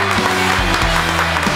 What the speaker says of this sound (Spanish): Un aplauso para esta gente.